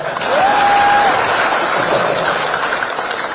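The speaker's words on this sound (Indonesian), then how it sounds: "Tepuk tangan buat saya." Loud crowd applause for a stand-up comedian at an event attended by a government minister, a dense, close roar of clapping with a brief whistle-like tone near the start, sustained for over three seconds.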